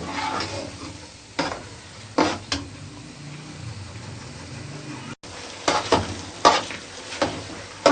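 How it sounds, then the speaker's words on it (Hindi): Bread halwa thickening in oil in a pan over a lowered flame, stirred steadily: a continuous soft sizzle broken by repeated loud scrapes of a spoon against the pan, with a brief drop-out midway. "जब तक ऑयल ना निकले हम तब तक पकाएंगे इसको।"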